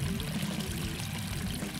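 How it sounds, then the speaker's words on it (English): Water steadily pouring into a leaking submarine in a Roblox game, a loud continuous gushing stream with no break and no speech over it. "the water keeps flowing in at the same rate even if you patch the holes"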